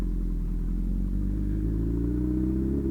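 Honda CB1000R motorcycle engine droning steadily and close as it rides along by a lake, a continuous low rumble with a slight rise in pitch toward the end.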